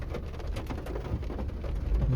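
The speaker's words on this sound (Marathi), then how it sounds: "आज पाऊस आहे" Steady rain falls in a continuous, even wash of broadband hiss, with denser patter and a few louder drops throughout, recorded on a school-day morning.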